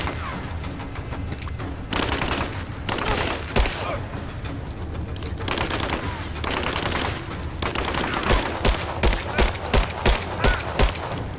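Gunfire against an enemy in Rise of the Tomb Raider: loud, close bursts of rapid shots with sharp repeated cracks, ending in a run of evenly spaced single shots.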